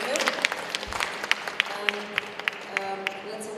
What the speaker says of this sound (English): So big applause to get started here.